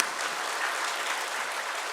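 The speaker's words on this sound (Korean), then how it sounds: "박수 치세요." An audience claps at a church sermon, dense and sustained applause from many hands, fairly close and even throughout the short stretch.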